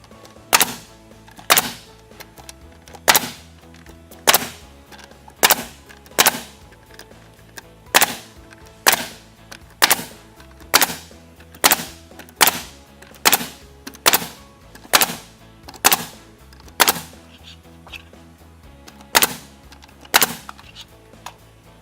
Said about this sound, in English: Then we continue our nailing.